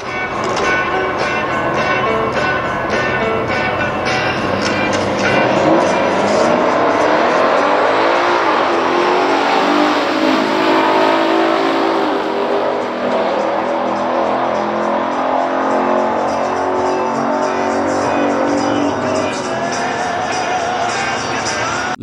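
A 1969 Chevrolet Yenko Camaro and a 1970 Ford Torino Super Cobra Jet race heads-up in a Factory Stock drag event, with loud, sustained V8 roar and rising engine pitch throughout, steady and close, with the crowd faint underneath.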